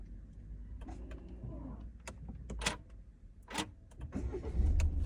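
A Peugeot 2008 with a 1.5 diesel engine being started, heard from inside: several clicks and thumps, then the engine catching and settling into a low, steady idle rumble that grows louder toward the end.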